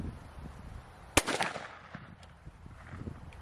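A single sharp report from a .410 gauge KOFS Sceptre over/under shotgun fired from the under barrel at an outdoor range, one brief close crack followed by a short echo over quiet background.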